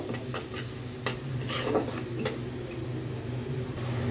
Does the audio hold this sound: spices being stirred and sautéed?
yes